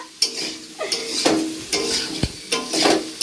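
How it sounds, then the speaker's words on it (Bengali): Potatoes sizzle in a hot pan while a utensil stirs and scrapes them in regular strokes, close up with no talking. "এই আলু ভাজছি এখন। আলুটা একটু ভাজা ভাজা করে নেব।"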